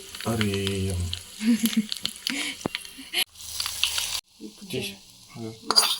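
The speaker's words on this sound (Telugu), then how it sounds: "మిర్చి యాడ్ చేసుకొని చిటపటేంత వరకు ఉండి" Chillies splutter in hot oil as a tempering for coconut chutney, in crackling, popping bursts with brief gaps, mixed with stirring scrapes and a voice talking now and then.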